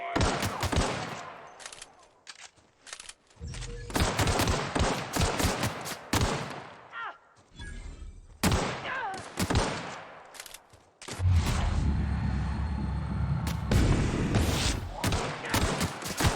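Repeated gunfire from a weapon in the video game The Outer Worlds, loud clusters of rapid shots separated by short quiet gaps, ending in a longer sustained volley.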